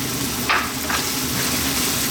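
Jamaican brown stew chicken sizzles in a pan over lively heat, with a dense, close frying crackle and a brief scrape or two of stirring early on.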